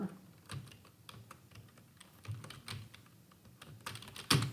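Fingers tapping quickly on a computer keyboard, irregular close clicks in short bursts, faint and without talk.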